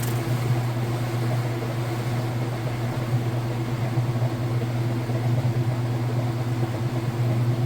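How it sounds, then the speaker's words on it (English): A Whirlpool washing machine drum spins with a steady, loud motor hum and whir that holds constant throughout, with no voices. "it's getting going faster and faster"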